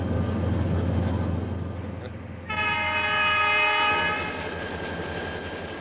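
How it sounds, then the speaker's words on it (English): Salad Bowl Express freight train climbing toward the Continental Divide sounds its horn in a sustained multi-tone blast over a steady rumble of rolling cars and engine. "the Salad Bowl Express climbs toward the Continental Divide"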